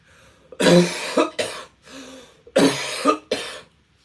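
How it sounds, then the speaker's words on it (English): Loud, harsh coughing in two bursts of several coughs each, with a brief pause and a throat-clearing sound between them, close up. "That is a pre-smoke cough."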